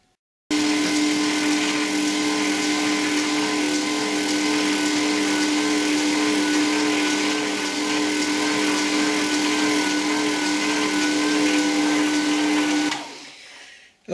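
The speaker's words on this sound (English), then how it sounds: "what you heard there was my sharpening station" A Jet slow-speed whetstone sharpening system runs with a steady motor hum and whine, starting abruptly, holding constant for about twelve seconds, then winding down; close and alone with no talk.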